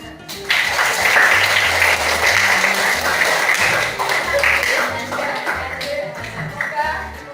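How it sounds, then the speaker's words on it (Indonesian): A school class applauding together in a classroom, a dense wash of clapping from many hands running steadily throughout, with voices chattering over it. "Tepuk tangan."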